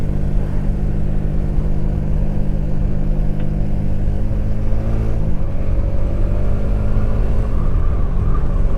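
A Honda Click motorcycle with a sidecar drives past on a road near a beach resort in Bataan, a loud steady engine rumble close by whose drone shifts in pitch midway.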